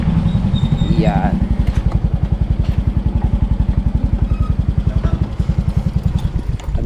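A motorcycle engine idles close by with a fast, steady, even thumping pulse throughout, loud and continuous, while people talk faintly in the background.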